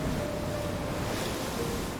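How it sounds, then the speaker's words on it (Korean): Wind and surf around Uido, a remote island off Sinan in South Jeolla, a steady broadband roar of waves and gusting wind hitting the microphone, with no voices. "파도를 일으키는 바람은 늘 섬을 감싸고 있습니다."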